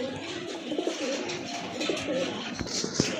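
A male fancy pigeon coos in a few soft, low, throaty phrases, close by, over a steady murmur of background noise.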